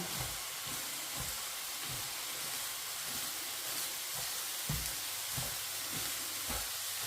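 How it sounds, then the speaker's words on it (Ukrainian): Constant frying sizzle as shredded cabbage is stirred in a deep pan, producing regular soft scraping thumps roughly every half second, close by. "Раз кладу половину капусти, промішаю і далі добавлю другу половину."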